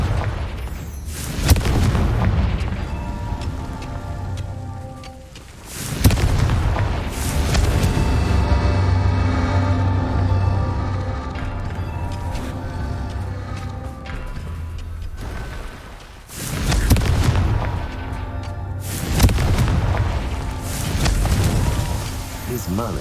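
In the game Hogwarts Legacy, a spellcaster fires the Confringo spell, producing repeated heavy, booming blasts with sharp onsets and rumbling tails, loud and close, amid continuous game sound.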